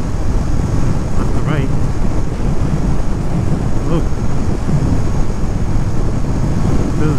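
Steady, heavy wind roar buffets the microphone while riding a Ducati motorcycle at speed on a wide open highway, loud and continuous with faint engine rumble beneath, and a voice speaks briefly over it.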